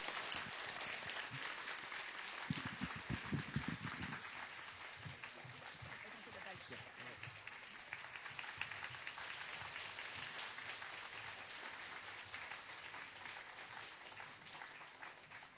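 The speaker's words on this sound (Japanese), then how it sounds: "盛大な拍手でお迎えください。" An audience at a lecture hall gives a warm, sustained round of applause to welcome a visiting Russian scientist, steady clapping from many hands at a distance, with a brief stretch of low talk or rustling near the start.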